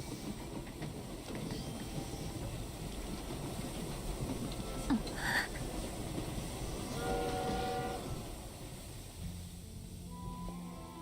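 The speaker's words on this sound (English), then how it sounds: "Look, the train is here." A train pulls in within the video game Infinity Nikki, with a continuous rumbling rail roar, a short horn or whistle blast in the middle, and a hissing, squealing release toward the end.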